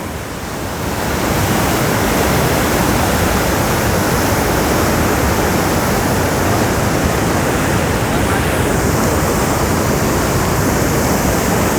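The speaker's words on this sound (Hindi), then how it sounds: "पानी का वेग बढ़ता ही जा रहा है" Loud, rushing river water roars at a Himalayan confluence during rain, a dense continuous wash of noise that swells in the first second and then holds steady and close.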